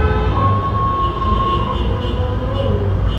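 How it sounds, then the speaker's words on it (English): Busy New York City street traffic makes a loud, unbroken roar of engines and rumble that fills the scene, with a thin sustained whine riding on top for a couple of seconds. No one speaks. "Motorcades and like fleets of motorcycles that just rush down the street. There's constant beeping and backing up of trucks."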